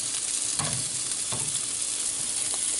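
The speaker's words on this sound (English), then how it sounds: "just wanted you to hear that good grill sizzle" Wild turkey meat sizzles on a grill with a steady, close hiss and faint crackles throughout, and no one speaks.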